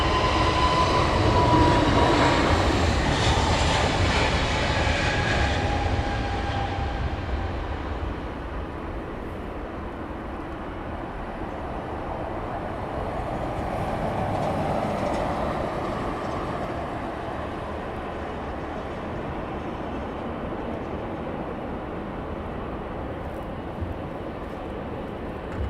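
A retro-liveried British Airways airliner at Heathrow Airport makes a loud, steady engine roar. The roar eases after several seconds, then swells slightly again before settling into a sustained rumble.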